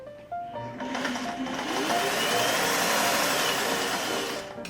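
Vintage Singer 404 sewing machine after maintenance, stitching steadily: a motor whir rises quickly and settles into a loud, even mechanical hum with rapid needle clatter, close up and without talk.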